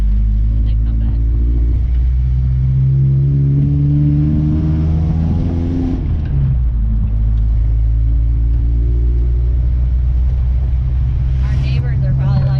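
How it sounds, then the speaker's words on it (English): A loud truck drives and accelerates with a heavy, steady engine rumble that holds its pitch and then shifts, continuous throughout, with voices talking over it. "Our neighbors are probably like, oh great, another loud truck."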